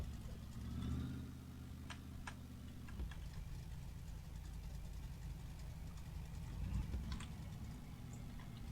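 An AI car engine in a driving video game hums low and steady at close range, holding a droning tone with scattered ticking clicks over the top and a slight swell around the start.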